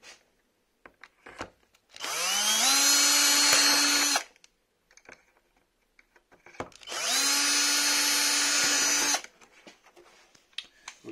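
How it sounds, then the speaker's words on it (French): A power drill bores through a Traxxas X-Maxx RC truck body in two separate bursts of about two seconds each, a close, high whirring grind with quiet handling noises and pauses in between. "Voilà, donc on perce à peu près dans l'axe"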